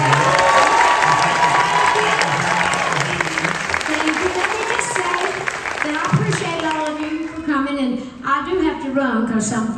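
A crowd applauds and cheers loudly and steadily for Dolly Parton at an event at Dollywood, with scattered whoops and shouts rising near the end.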